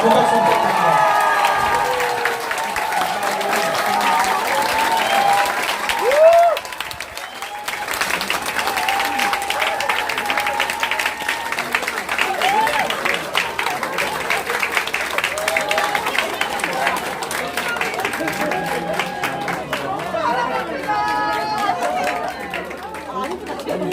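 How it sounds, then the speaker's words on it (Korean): Applause and cheering from a crowd at a political town hall meeting in Jeju, steady clapping sustained throughout with chatter mixed in, a short dip midway, and voices speaking over it. "큰 박수 부탁드립니다."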